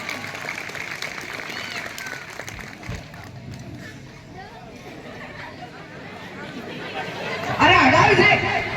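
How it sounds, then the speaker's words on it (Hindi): A crowd at a Silver Jubilee celebration claps loudly for a politician's answer, with murmuring chatter and voices running through it and a louder burst of applause near the end. "नेताजी के जवाब पर जोरदार तालियां।"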